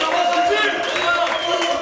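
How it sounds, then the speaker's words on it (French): A French television studio audience applauds steadily and densely, with a host speaking loudly over the clapping. "On l'applaudit très fort, merci beaucoup."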